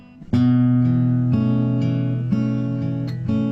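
A soft guitar track raised with added gain in Logic Pro X plays a sequence of strummed chords, each struck and ringing before the next, loud and clear without talk.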